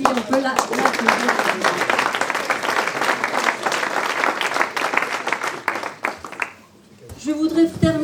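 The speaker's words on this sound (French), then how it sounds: "On peut l'applaudir." An audience at a volunteers' ceremony in Saint-Martin-de-Seignanx breaks into loud, sustained applause that fades out near the end, and a voice then begins speaking.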